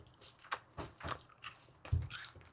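Close, quiet chewing and biting on a Fruity Pebbles crispy rice treat with a gummy worm inside, making several irregular crunchy, squishy bites with no talking.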